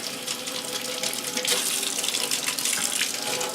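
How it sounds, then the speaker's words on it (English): Makeup brushes are rinsed under a running tap, giving a steady, close, full rush of water that splashes continuously with no voices. "Give them a final rinse up and down."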